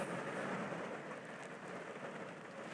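Rain beginning to fall outdoors, a faint, even hiss of drops that holds steady throughout, with no voices.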